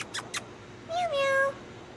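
A cat meows once in the video game Metal Gear Solid V, a clear rising-falling cry heard alone after brief background noises.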